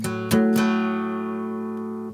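A guitar plays the third bar of a song, a few quick strums in succession followed by a ringing chord that sustains and slowly fades, with no talking.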